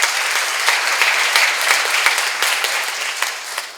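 Congregation at a church seminar clapping together, a loud, dense and steady round of applause from many hands that carries evenly throughout with no talk over it.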